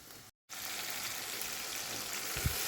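Onion and tomato paste sizzling in hot oil in a pot for mutton yakhni pulao, a steady close hiss that starts abruptly after a brief gap, with one soft knock near the end.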